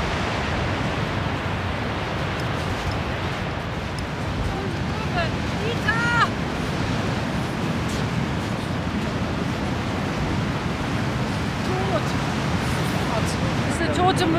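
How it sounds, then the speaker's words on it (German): Strong winter storm wind roars across the microphone over a continuous rush of breaking North Sea surf on Sylt, loud and unbroken throughout, with a brief voice surfacing faintly. "Wir werden jetzt in den Sturm abtauchen."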